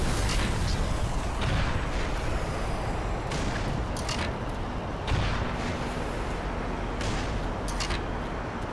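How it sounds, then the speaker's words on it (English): Rockets fired and bursting in the shooter game Black Mesa, a dense, continuous rumble of booming blasts with sharp cracks every second or so and no voices. "I guess I'll just fucking fire rockets at him the entire time"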